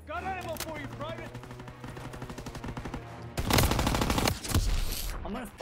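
Gunfire in the Call of Duty: WWII campaign on Veteran difficulty: loud automatic bursts crackle in close succession over continuous battlefield noise, with a voice talking beneath the game sounds.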